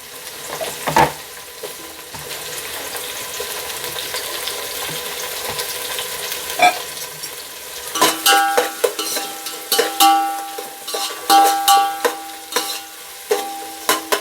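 Tomatoes frying and stirred with green chillies for Dindigul-style mutton biryani, a soft sizzle that turns into a run of sharp, close spatula scrapes and knocks in the second half, with no talk.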